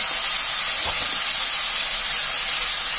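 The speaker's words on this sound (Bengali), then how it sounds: "এবার আমি ডালটাকে ঢেলে দেবো।" Boiled chana dal poured into hot oil tempering with asafoetida gives a steady, close hiss of sizzling that holds evenly throughout, with a brief burst of louder crackle early on.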